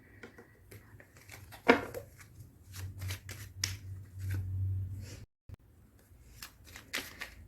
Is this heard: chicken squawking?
no